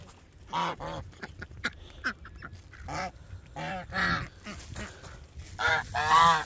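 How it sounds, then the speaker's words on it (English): Ducks honking and quacking nearby in a loose series of calls, with a couple of louder honks toward the end. "These some big ass ducks though."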